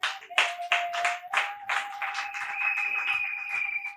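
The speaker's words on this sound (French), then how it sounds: "Est-ce que vous pouvez applaudir pour les hommes?" Wedding guests at a civil marriage ceremony clap in uneven bursts that settle into steady, moderately close applause, with a sustained tone running under it.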